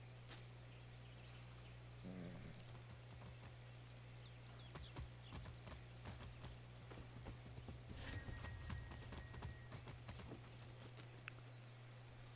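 Hooves of a red horse galloping in the video game Far Cry 6, a quick rhythmic clatter over a steady engine-like hum, with a brief snort and faint bird calls in the background.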